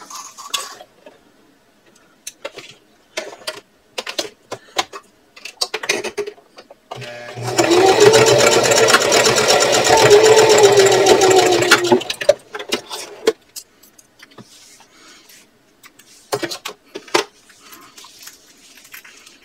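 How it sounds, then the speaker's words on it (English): A sewing machine stitches across a purse seam at a 1/4 inch allowance in one steady, close burst of about four seconds, set between scattered clicks and handling noises of fabric and tools. "Now I want to sew across here using a 1/4 inch seam allowance."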